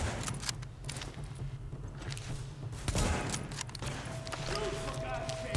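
Gunfire in The Division, a cluster of sharp shots and rapid bursts in a busy game mix over a low rumble, with a voice talking at times.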